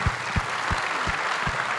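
A crowd at a televised summit claps for the staff, a strong spread of applause that runs steadily all through, with a few sharper low thumps standing out near the microphone.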